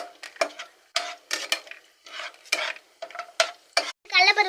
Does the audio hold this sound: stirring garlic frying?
yes